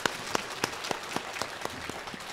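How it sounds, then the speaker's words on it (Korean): A congregation in a Korean church, Sacheon-eup Church, claps for a child after a hymn; the claps are sparse, crisp and fairly steady, and no one talks over them. "성장하라고 박수 한번 해주시죠."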